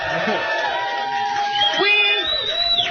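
A festival audience at Wacken Open Air cheers with whoops and shouts, a loud, close crowd swell with voices rising over it, followed by a rising whistle near the end.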